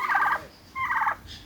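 Turkeys gobble in a backyard homestead, two loud bursts of rapid warbling calls separated by a short pause, with no talk.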